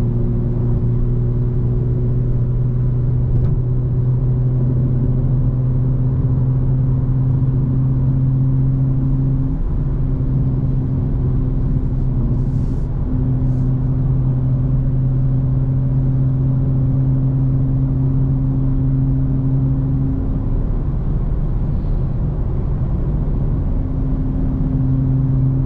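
Inside the cabin of a 2025 BMW M4 Competition xDrive in sport mode with all-wheel drive and the exhaust valves open, a steady, loud droning engine hum at cruise, with a shifting tone and no talking over it.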